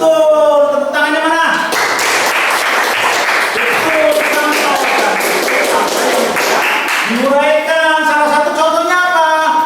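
Classroom pupils clap in a quick burst of rapid, loud applause lasting several seconds, with children's voices chanting and calling out before and after it and over the top.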